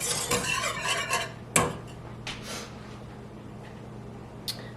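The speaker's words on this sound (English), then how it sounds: "turn it down a little bit just to kind of infuse the butter with the garlic" Garlic sautéing in butter in a pan for a four-ingredient Alfredo sauce: soft sizzling under spoon strokes and scraping against the pan, with a sharp clink partway and a quieter tap near the end, no voices.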